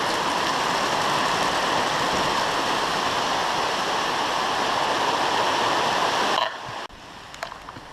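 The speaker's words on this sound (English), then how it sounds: "You can see it's all coming right off the roof here and puddling up, and it's still raining" Heavy rainwater pours off a roof in a steady, loud broadband rush while rain keeps falling, continuous for most of the stretch before cutting off abruptly near the end, leaving only faint scattered drips and thumps.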